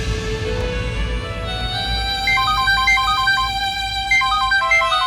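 A melodic phone ringtone on an incoming call, a short tune repeating twice over steady background music, loud and close, with no talking.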